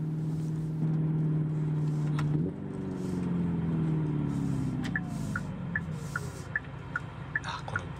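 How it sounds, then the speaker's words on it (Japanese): Synthesized engine note from a high-performance Hyundai Ioniq 5 EV rated at 650 horsepower: a steady low drone that drops in pitch with a step at each simulated gear shift, followed by faint rhythmic ticking near the end. "本来 EV にはないエンジンの音やシフトチェンジの振動が再現されています。"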